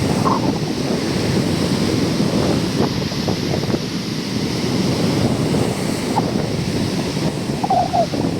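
Rough sea waves roar and crash continuously nearby during a storm surge at a seaside mosque, a heavy, unbroken surge mixed with wind buffeting the microphone.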